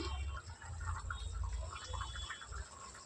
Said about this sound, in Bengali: এবার এর মধ্যে ঝোলের জন্য জল দিয়ে দেবো।